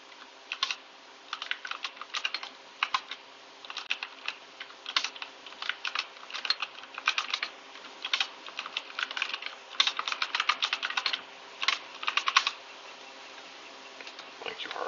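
Rapid keystrokes clatter on a computer keyboard in irregular bursts, close and crisp, with short pauses between runs of typing.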